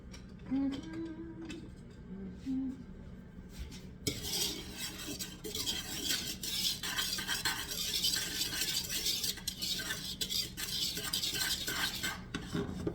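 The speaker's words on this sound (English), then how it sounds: "mix this up thoroughly." A utensil stirs dry muffin ingredients for apple pecan muffins in a bowl, producing a continuous scraping, rubbing swish that starts after a few quiet seconds with a brief voice and keeps going steadily.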